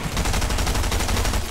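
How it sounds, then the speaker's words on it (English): Rapid gunfire in the video game Fortnite, a loud, steady stream of closely spaced shots with a dense rattling rhythm filling the whole moment. "now we're actually getting shot a bit"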